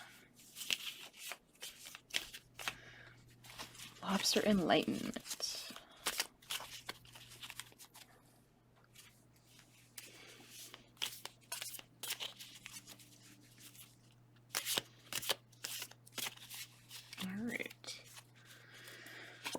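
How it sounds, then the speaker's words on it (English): Tarot cards are shuffled in short papery riffles and flicks, soft and close, with a quiet spoken phrase and a faint low hum underneath. "And we'll start shuffling the Owl's Tarot."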